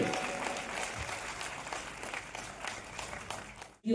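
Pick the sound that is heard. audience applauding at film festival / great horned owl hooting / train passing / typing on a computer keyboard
audience applauding at film festival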